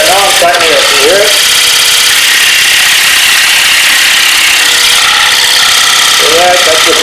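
A power carving tool cutting into a wooden sushi platter, a loud, continuous harsh buzzing grind that holds steady close up throughout, with brief whining shifts near the start and end.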